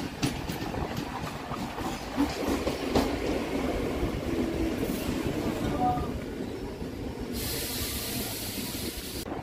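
Sealdah harbour line local train running along the track, a steady close rumble with rattling wagons and occasional hissy bursts throughout, a faint voice now and then underneath.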